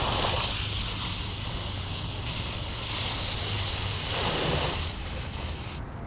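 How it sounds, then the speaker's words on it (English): A garden hose sprays water into a car wash bucket of suds with a steady, loud hissing rush that eases slightly toward the end; no voices. "Now we'll use our hose to activate the suds."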